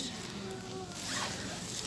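A zipper on a knitted bag is pulled open in one steady rasping run, close and moderately loud, lasting under two seconds with no talking.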